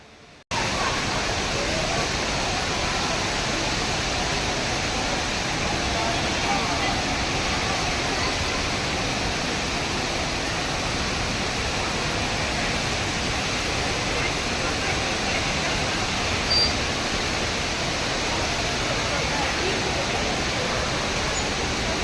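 An artificial indoor waterfall in Singapore roars as a steady, loud, broadband rush of falling water that continues unbroken throughout.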